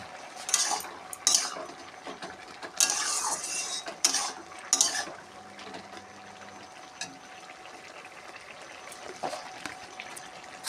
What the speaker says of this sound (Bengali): ঢাকনাটা খুলে দিচ্ছি, দিয়ে একটু নেড়ে ছেড়ে দেবো।